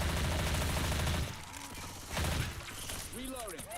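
Rapid video game gunfire rattles in dense bursts while shooting armored zombies, with short pauses between volleys and mechanical clicks, loud and close.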